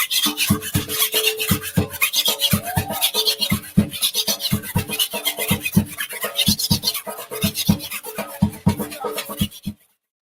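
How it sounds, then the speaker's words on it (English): A scraper instrument is raked in a rake-and-scrape rhythm, steady rasping strokes repeating quickly and loudly for about ten seconds, then stopping abruptly. "Then you must hold your scraper up and down, and it gives you a different rhythm."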